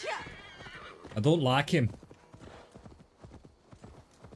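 In AC Valhalla, a horse gives a loud, shrill whinny while its hooves clop steadily underneath, and someone talks briefly over the start.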